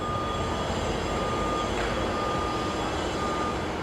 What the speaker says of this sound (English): there was a truck just pulling in there